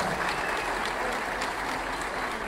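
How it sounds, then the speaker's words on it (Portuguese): A crowd at a popular assembly applauds deputy federal Max Filho, producing a dense, steady wash of clapping that stays loud and even throughout. "Eu peço uma salva de palmas mais forte ainda,"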